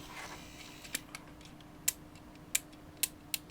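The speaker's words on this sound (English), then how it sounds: "So that's definitely our relay going." A relay inside a Velleman K8022 passive preamp kit clicks sharply five or six times at irregular intervals, crisp close ticks over a quiet electrical hum.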